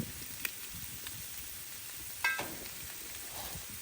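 Bacon sizzles on a Loco griddle at breakfast, a steady close hiss of frying fat with a few small pops and a brief louder crackle.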